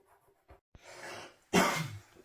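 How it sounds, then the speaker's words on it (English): A couple of rough, breathy coughs up close, the last one louder and harsher, with short pauses between. "Stop coughing."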